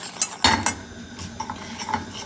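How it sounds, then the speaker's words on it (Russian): A spoon stirs a cocoa glaze of sugar, cocoa and milk in a pot on the stove, with a few sharp clinks and scrapes against the metal at the start, then softer scraping and light bubbling. "И все время перемешиваю до первых бульканьев."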